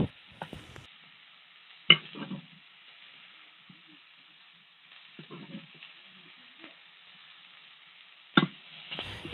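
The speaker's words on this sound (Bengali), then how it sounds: "এই তো পেঁয়াজটাকে উল্টে পাল্টে ভালোভাবে ভেজে নিচ্ছি" Chopped onions dry-frying in a pan without oil while being stirred, giving a faint, quiet texture broken by a few sharp spatula scrapes and knocks, close by and without speech.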